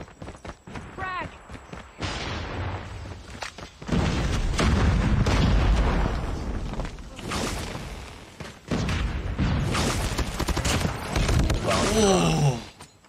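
Frag grenades burst during a Call of Duty Mobile match with several loud booms, mixed with gunfire and game noise under fast, excited talk from commentators.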